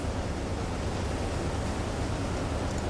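Ocean waves in the submarine game Silent Hunter 3, a steady, loud broadband wash of surf and wind that holds without break, with no distinct individual breakers.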